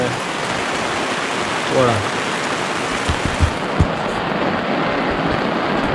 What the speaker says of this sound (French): Un peu de pluie, c'est pas grave.